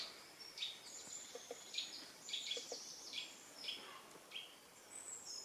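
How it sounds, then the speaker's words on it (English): A greater spotted woodpecker calls at a Cornwall campsite in the morning: a series of short, sharp, high call notes, repeated every half second or so, moderately distant over a quiet outdoor background. "Just been woken up to the sound of a greater spotted woodpecker up there"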